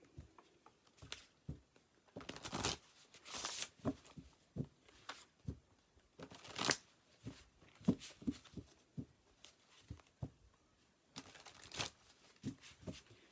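Tarot cards being handled and shuffled during a reading: soft rhythmic papery taps and riffling swishes, repeated steadily at close range, with occasional louder brushing bursts and no talk.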